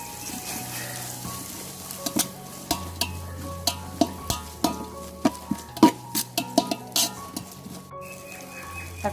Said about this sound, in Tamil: பச்சை மிளகா ஒரு 6 பச்சை மிளகா போட்டு அதையும் நல்லா வதக்கிக்கிறோம்